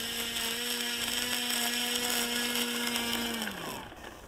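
A Great Planes Avistar Elite RC plane with a Rimfire 46 electric motor flies at Hunting Creek RC, its steady loud buzzing whine holding pitch for over three seconds before dropping as the throttle eases off.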